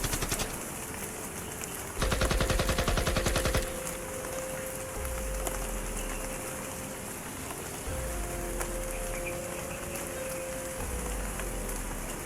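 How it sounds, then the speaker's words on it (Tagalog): Steady rain hisses in a video game shooter, drumming evenly throughout, with a loud rattling burst of rapid gunfire cutting through for a couple of seconds and a low engine-like drone beneath. "Kasi umuulan ngayon dito mga kaidol."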